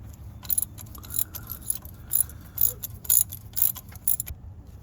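A ratchet tightens a bolt underneath a 2013-2018 Nissan Altima engine, rapid close metallic clicking in short repeated bursts over a low background hum, with no talking.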